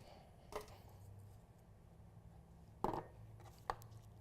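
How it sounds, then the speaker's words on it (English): A knife chops the tops off green onions on a cutting board, making three spaced, faint thuds in a quiet kitchen. "we're gonna chop off the tops of the onions"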